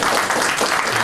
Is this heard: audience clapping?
yes